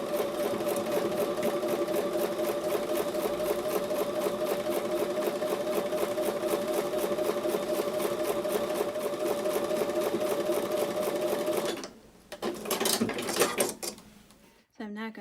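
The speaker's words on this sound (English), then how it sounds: "I'm going to go back over to the sewing machine and sew on top of the drawn" A sewing machine stitches a quilt block in a fast, steady mechanical rhythm for about twelve seconds, then stops, followed by a few handling clicks and rustles.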